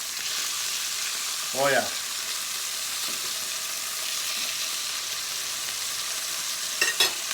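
Steaks sizzle steadily in a hot pan just after being flipped, a continuous close frying hiss, with a brief spoken exclamation partway through and a short clatter near the end.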